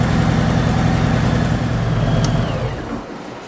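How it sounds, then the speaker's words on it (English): A cold Harley-Davidson motorcycle engine idles with a loud, close, steady low rumble that smooths out and quiets near the end. "In a second or two, the oil circulates, the engine smooths right out."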